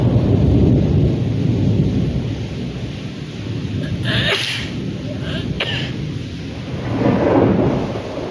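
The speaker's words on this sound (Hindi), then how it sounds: "आ केला मेघ घिड़घिड़ौछे" Thunder rolling during a heavy rainstorm: deep sustained rumbles swelling and fading over steady rain, with a few sharp bursts in between, no speech.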